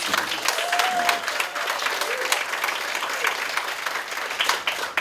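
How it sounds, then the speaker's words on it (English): Sustained audience applause at the Mrs Africa 2022 awards event, steady dense clapping from a large crowd holding an even level throughout, with some voices mixed in. "give them the biggest round of applause"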